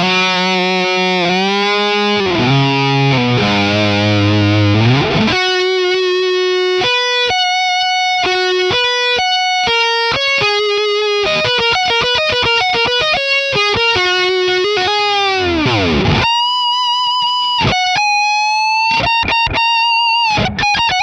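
Heavily distorted electric guitar played through a Revv Generator amp and a Friedman 412 Vintage cabinet, loud and dry, with sustained chords and riffs that shift into single ringing notes, alone without other instruments.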